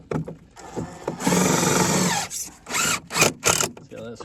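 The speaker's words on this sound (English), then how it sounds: "See how that screw right into your stud there." Power drill driving a screw into a wooden stud while building a frost-protected foundation, close and loud: a short whir, a sustained grinding burst, then several quick stop-start pulses, with low talk before it.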